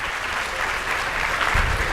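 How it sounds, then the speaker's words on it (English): An audience at a leadership speaker event claps loudly and continuously for a couple of seconds, a dense burst of many hands close by. "Hands clap."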